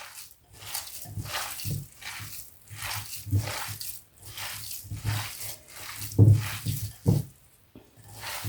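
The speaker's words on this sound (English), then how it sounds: "Good squeeze to mix everything together" Wet squishing and squelching as a pork burger mixture is kneaded and squeezed by hand, arriving in soft repeated bursts about every half second, close and moderately loud, with a couple of sharper wet squelches near the end.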